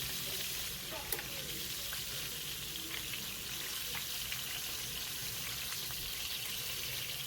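Shrimp frying in oil in a pan give a steady, close sizzle with a faint watery hiss that runs the whole time, without breaks or loud bursts.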